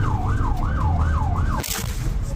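An ambulance siren wails in a rising and falling cycle as the vehicle drives toward a hospital in Rafah, loud and close over road rumble, then cutting off abruptly near the end.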